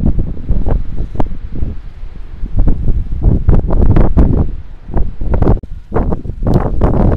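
Strong, gusty spring wind on a rural farmstead buffets the microphone in loud, irregular roaring bursts that swell and drop over several seconds, with rustling underneath and no voices.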